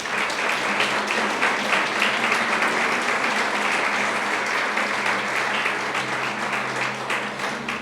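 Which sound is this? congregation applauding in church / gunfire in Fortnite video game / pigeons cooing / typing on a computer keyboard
congregation applauding in church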